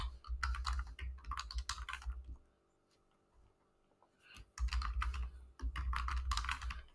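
Fingers type on a computer keyboard in quick clattering bursts, broken by a short pause partway through and then resumed at the same close, steady pace.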